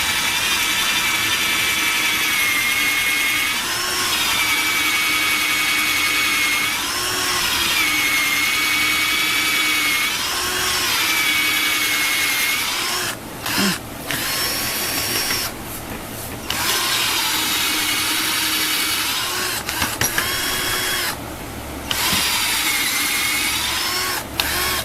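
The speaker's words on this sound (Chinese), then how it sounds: "维修完成以后，来进行钻孔的测试。" A SHAMYNA 12V electric torque screwdriver with a repaired battery pack drills a test hole, its motor whining steadily and loud for long runs. Several brief stops break the sound before it starts up again.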